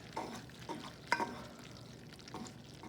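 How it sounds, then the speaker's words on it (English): Wooden spoon stirring Kraft Dinner macaroni in a pot: soft, irregular scrapes and wet clicks, with a sharper knock near the middle, fairly quiet and close, no voices. "grab my wooden spoon that I forgot to bring over and just mix that up a bit."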